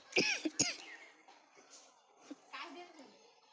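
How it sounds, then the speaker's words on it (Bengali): A few sharp, close coughs and a throat clear from one person early on, with faint kitchen clatter afterward while milk boils for cooking semai. "হঠাৎ কাশি এসে গেল, এই জন্য দুঃখিত।"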